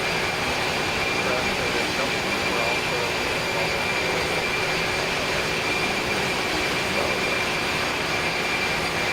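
Jet engines of an Airbus A300 on takeoff in the MSFS2024 flight simulator, a steady, loud broadband roar with a whining tone held throughout, with a voice speaking over it.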